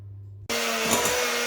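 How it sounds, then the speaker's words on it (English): A hand mixer switches on and runs steadily while creaming butter and sugar for homemade shortbread, a loud whirring motor that starts abruptly after a brief quiet pause and keeps going. "Right, so there's Max creaming the butter and the sugar until it gets nice and pale and fluffy with an hand mixer."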